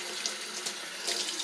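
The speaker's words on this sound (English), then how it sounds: "Turn the water on." Water runs steadily from a kitchen tap into a sink for hand washing dishes, a constant hiss and splash with no talk.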